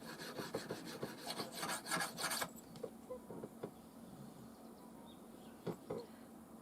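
A blade is stroked across a banded jasper whetstone in quick rasping passes, a rapid run of scrapes at first and then sparser single strokes, close and quiet.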